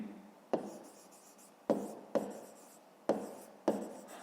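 Pen strokes scratch across a notebook page during a fifth-grade maths exercise, a series of short close scribbling bursts, each starting with a sharp tap, with quiet pauses between and no voices.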